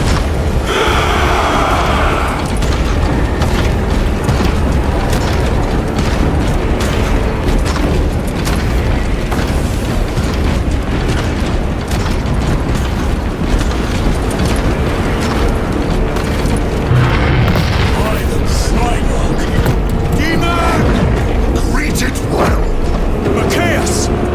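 Loud battlefield din from a Warhammer video game as forces open fire, with continuous booms, explosions and clattering weapon mechanisms filling the whole stretch, with shouted voices mixed in.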